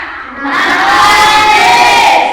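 A classroom of Indonesian schoolchildren in a science lesson bursts into loud, sustained cheering and shouting that swells and holds close by for a couple of seconds.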